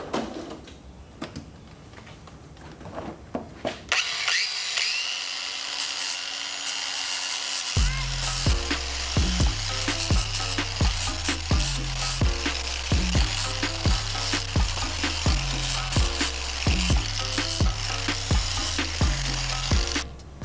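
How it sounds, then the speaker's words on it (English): A grinding wheel smooths the cut edges of a truck part during a Silverado 2500 HD restoration, a steady high whine running continuously with rhythmic pulsing, loud and close, after a quieter opening stretch. "I'm just gonna take the grinding wheel and just grind that a little smoother on all edges."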